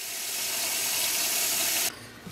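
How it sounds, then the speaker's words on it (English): Tap water runs steadily into a basin as it fills, a loud continuous hissing rush for nearly two seconds before the flow cuts off abruptly, no talking. "we're gonna fill this basin back up with water"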